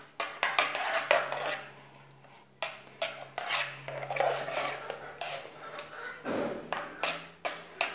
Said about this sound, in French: je mélange pour que le beurre puisse fondre